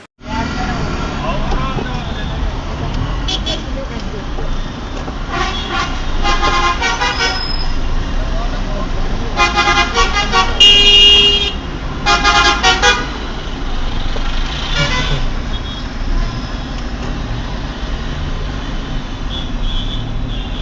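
A bus disco horn blares in bursts of melodic, warbling tones over steady road traffic in Hyderabad, repeating several times, loud and close, with a voice talking underneath.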